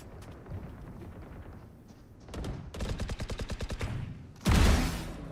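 Gunfire from a video game shooter: a few scattered shots, then a rapid rattling automatic burst, and finally a louder heavy blast that trails off, with no talk over it.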